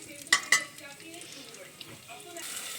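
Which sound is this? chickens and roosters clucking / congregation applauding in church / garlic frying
garlic frying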